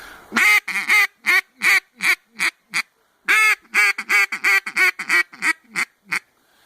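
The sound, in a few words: duck call imitating a pleading rolling call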